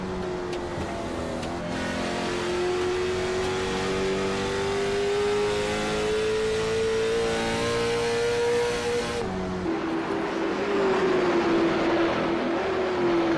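Race cars on a track during the Murica 150, one engine holding a rising, droning note as it passes close, then a sharp shift to another car's higher whine, loud and continuous.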